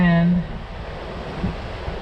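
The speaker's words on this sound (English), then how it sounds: "look at the waves. They are not bad at all. They're calm, collected." Calm ocean waves wash onto a flat sandy beach as a soft, continuous rush of surf. A brief tonal sound opens the moment, then the steady wash continues alone.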